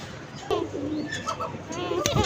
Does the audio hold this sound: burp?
no